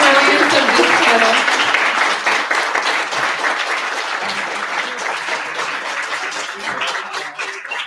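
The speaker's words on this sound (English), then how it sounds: "We can applaud fully the brilliance of this panel" Audience applause for a panel on guaranteed basic income, a dense, sustained burst of clapping from a crowd that holds steady and fades slightly over about eight seconds.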